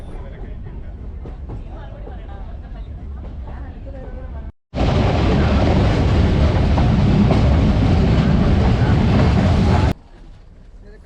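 Ooty heritage toy train on the move: a steady mid-level rumble and clatter, then a much louder, dense roar of the running train for about five seconds before it drops back to a quieter hum.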